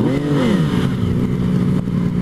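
A Yamaha FZ-09 motorcycle's engine revs up once and settles back, a close, loud rising and falling engine note followed by a steady idle rumble.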